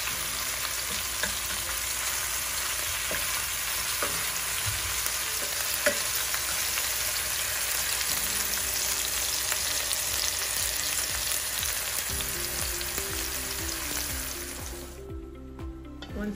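Bell peppers, half an onion and dry thyme sauté in oil in a pot with all-purpose seasoning, a continuous bright sizzle with scattered stirring scrapes, fading toward the end as a low hum and clatter take over.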